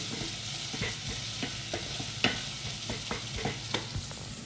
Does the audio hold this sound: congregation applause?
no